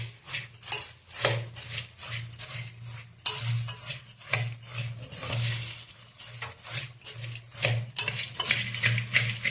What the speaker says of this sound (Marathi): आता हे आधी एकत्र करून घेऊया आपण चांगलं